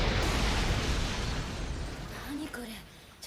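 A loud, rumbling explosion in the anime Cowboy Bebop fills the first half, broad and heavy, fading into a softer rush as voices begin speaking over the tail.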